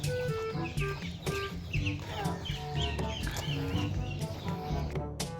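Ducks and young ducklings on a farm in Mindanao keep up a dense, close chorus of quacking and peeping, and a voice speaks faintly beneath the birds.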